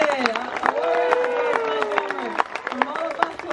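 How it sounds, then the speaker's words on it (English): An audience claps for the drum master at the close of an evening show at the Polynesian Cultural Center, a dense patter of applause under a presenter's loud voice. "How about a last round of applause for our drum master"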